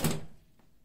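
Lid of a Harbor Freight US General two-drawer tool cart swinging shut, a single short, fairly loud thunk that fades quickly into quiet.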